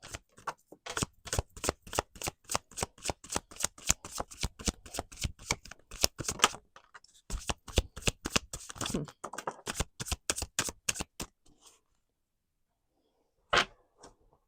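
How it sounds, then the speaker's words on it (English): Rapid, crisp riffling of a deck of cards being shuffled close by, in repeated quick bursts, then a pause and one final short riffle. "they want me to do one more shuffle."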